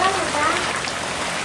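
Monsoon rain pours steadily onto the surfaces of a village courtyard under the eaves, a dense, even hiss with no break for the whole moment.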